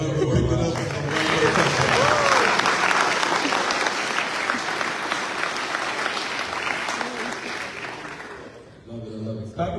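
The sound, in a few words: applause at a Navy retirement ceremony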